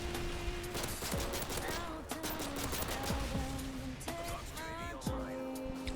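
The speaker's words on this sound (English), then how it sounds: "Am I being shot at by an AC-130?" AC-130 gunship fire in Modern Warfare 3, bursts of rapid heavy gunfire and booming impacts rolling over one another, with a voice talking faintly beneath the barrage.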